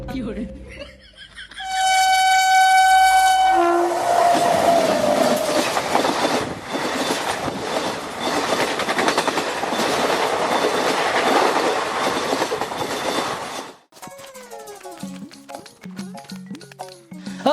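A train rumbles loudly along the tracks with steady clattering and rolling noise after a brief tonal horn-like start, then cuts off abruptly as voices talk over a quieter background near the end.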